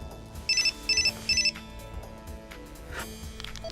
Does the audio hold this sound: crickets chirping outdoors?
no